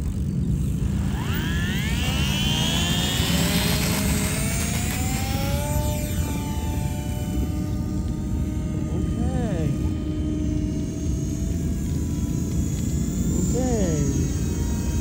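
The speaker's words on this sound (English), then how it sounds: "maiden flight takeoff." Eachine mini P-47 RC warbird plane on its maiden takeoff, a loud, steady electric motor whine whose pitch rises and sweeps as the small plane accelerates and climbs, with wind buffeting throughout.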